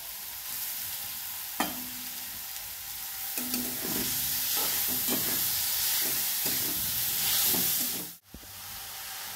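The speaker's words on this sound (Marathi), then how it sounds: "आता हे सर्व साहित्य तुपात मंद गॅसवर परतून घेऊया" Beetroot, carrot and raw mango sauté in hot ghee over a low flame, giving a steady close sizzle and hiss with soft scraping stirs throughout, no voices, cutting off abruptly near the end.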